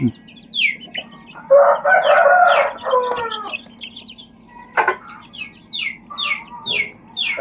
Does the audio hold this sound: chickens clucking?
yes